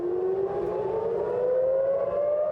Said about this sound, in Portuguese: sirenes aéreas foram acionadas no centro do país